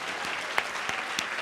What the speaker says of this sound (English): I think that's worthy of a round of applause.